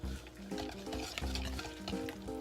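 Spoon stirring almond flour pancake batter in a bowl, a quick run of soft scraping, tapping strokes repeated in close, steady succession, with no talking.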